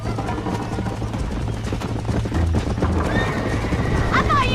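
A horse in Red Dead Redemption whinnies and gallops during a race, with rapid hoofbeats running throughout and a shrill neigh near the end, mixed with game sounds and some voice.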